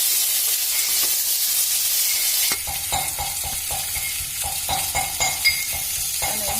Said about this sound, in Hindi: हल्दी और नमक मैंने डाल दिया है। थोड़ी देर ये फ्राई करके